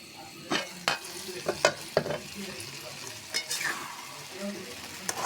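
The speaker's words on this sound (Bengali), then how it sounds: "আলুটা ভালো করে নেড়ে ছেড়ে এখন আমি ডেকে সুন্দর করে কষিয়ে নেব" Potatoes sautéed in a pan, a soft steady sizzle broken by several sharp stirring scrapes and clicks of the spatula, close and moderately loud, with no talking.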